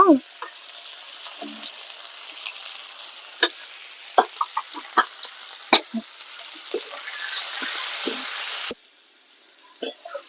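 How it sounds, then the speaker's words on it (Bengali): Diced potatoes fry with salt and turmeric in hot oil in a pan, a steady soft sizzle under sharp scraping clicks of a spatula stirring, then the sizzle briefly cuts out near the end. "এবার আমি আলুটাকে সামান্য নুন আর হলুদ দিয়ে দু মিনিট ভেজে নেব"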